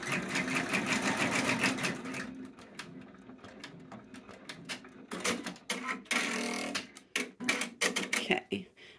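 An embroidery machine tacks down elastic for a bookmark, with fast rhythmic mechanical stitching that stops and starts in bursts, close and clear.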